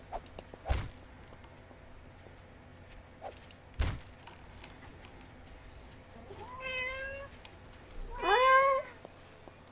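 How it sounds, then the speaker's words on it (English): A cat meows twice in 7 Days to Die Alpha 9 multiplayer gameplay, a rising meow followed by a louder, longer one, with sharp thumps earlier and a quiet background. "I love cats."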